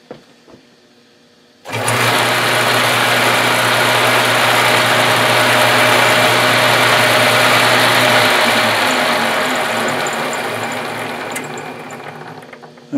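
A ball race bearing turning in a Steady Fingers game build, starting abruptly into a loud, steady mechanical whirr and rattle that holds for several seconds, then slowly fades.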